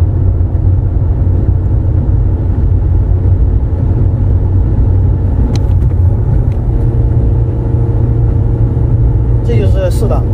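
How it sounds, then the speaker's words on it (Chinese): A manual-transmission car cruises at speed, its engine a loud, steady low rumble under road noise, with a brief shift in tone toward the end as it drops from fifth to fourth gear. "下面我再演示一下五降四啊，因为这是超车的时候经常用到的。"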